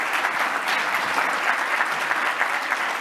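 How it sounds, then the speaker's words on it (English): Applause rises from a conference audience for a panel at an e-commerce forum, a dense, steady wash of many hands clapping that holds throughout at moderate loudness with no talk over it. "let's give the panel a round of applause"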